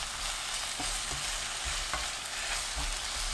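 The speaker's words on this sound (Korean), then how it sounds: "홍고추 넣고 30초 더 볶아주세요." Zucchini and red chili stir-fried in a pan, with a steady sizzle and hiss running throughout and a few soft scraping stirs close by, no voices.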